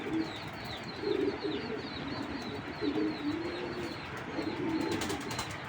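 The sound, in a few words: silver Giribaz racing pigeon cooing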